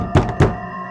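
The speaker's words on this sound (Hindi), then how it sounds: "फोन नहीं बजा, बल्कि दरवाजा खटखटाया गया।" Two heavy, hollow knocks land on a door in quick succession for a horror story. They are close and loud, and a short dull ring trails off after them.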